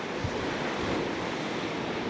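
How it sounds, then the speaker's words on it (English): Rough sea waves crash and surge at a shoreline fishing spot in rough weather, a close, loud, continuous roar of surf with buffeting wind noise and no speech. "Even just a spray now from some of the waves is coming right up."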